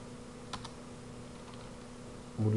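A few sparse keystrokes click on a Bluetooth computer keyboard, faint against a quiet room hum, followed by a louder burst of noise at the very end.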